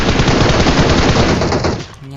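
Rapid automatic gunfire in a video game, a dense loud burst of shots close up that runs continuously and then cuts off abruptly near the end.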